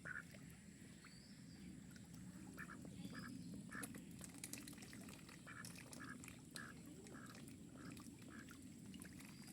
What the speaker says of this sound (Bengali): এই তো পুকুরে সাঁতার কাটতে আছে হাঁসগুলো, এপার থেকে ওপার যায়